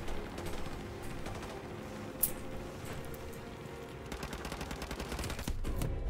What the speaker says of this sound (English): the boss is just shooting me for no reason